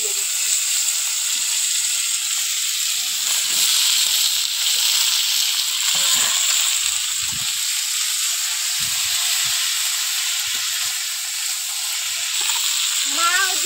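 Chopped vegetables, added after green chillies, sizzle steadily in hot oil in a frying pan, a loud continuous hiss with occasional soft stirring clatter.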